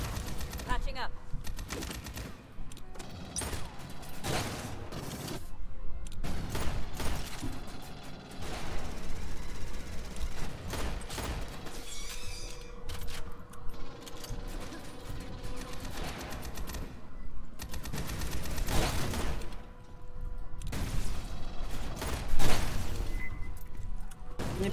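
Submachine gun fire in Aliens Fireteam Elite crackles in repeated rapid bursts across the whole stretch, loud and close, with game effects and voices talking between and over the volleys.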